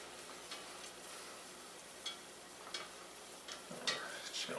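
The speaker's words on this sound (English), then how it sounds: "Just going to whisk this up." Flour mixture being whisked in a pot for gratin potatoes, a soft continuous scraping stir with a few sharper clinks of the whisk against the pot, close and fairly quiet.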